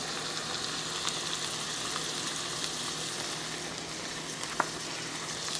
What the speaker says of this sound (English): So this is stir frying right now.